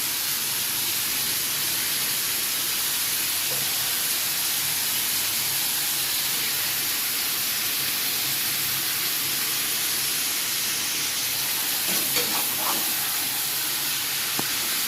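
Mutton frying in a pan with salt and turmeric, a steady broad hiss and sizzle filling the whole stretch at even loudness, with a few brief scrapes and clicks near the end and no talking.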